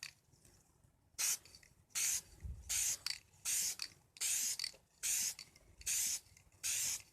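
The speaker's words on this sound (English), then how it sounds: "I started getting the splatter because I ain't used spray paint in a while" An aerosol spray paint can hisses onto a dirt bike in a series of about eight steady bursts, each lasting roughly half a second with brief pauses between, close and fairly loud.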